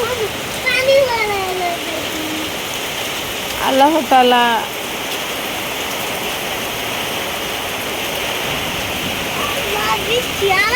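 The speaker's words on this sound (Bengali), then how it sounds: "এখন বৃষ্টি হচ্ছে সাথে শিলও দিচ্ছে" Steady rain mixed with hailstones pours down in a constant close hiss after a very hot day, while a voice speaks briefly a few times over it.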